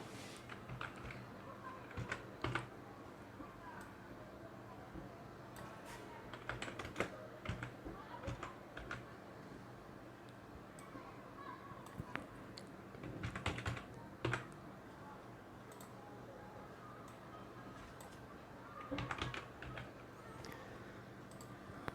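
Typing on a computer keyboard while writing C++ code, quiet scattered key clicks with occasional faster bursts spread over a long stretch, close and soft, with no speech over them.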